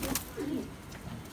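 Colourful pet pigeons of the Gola breed give soft throaty coos, two short rolling calls close by against a quiet background.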